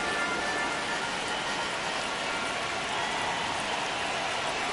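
Steady rain pours down over a baseball field during a game, a dense, even hiss of falling drops that continues without letup at fairly loud level.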